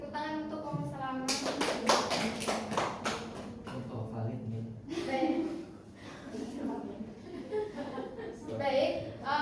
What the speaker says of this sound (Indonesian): Tepuk tangan untuk Om Selamat.